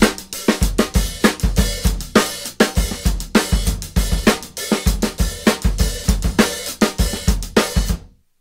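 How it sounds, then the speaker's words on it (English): A 7/8 drum kit groove with open hi-hat washes on the offbeats over bass drum and snare, dense and loud up close, ending abruptly into silence with no talking. "The open hi-hat theory applies to that as well."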